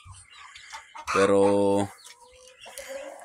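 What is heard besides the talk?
pet hens clucking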